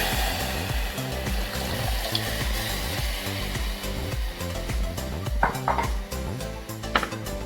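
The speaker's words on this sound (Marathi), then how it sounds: "मी याच्यामध्ये आता ताक घालते।" Buttermilk goes into a hot turmeric tempering for kadhi, a loud rushing hiss of liquid hitting the pan, steady throughout with a few metallic clinks near the end.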